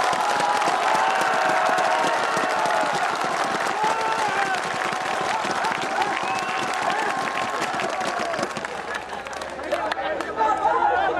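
Crowd applause and cheering for elders at a protest rally in Delhi, sustained and dense for the whole stretch, with voices and chatter mixed in the crowd noise.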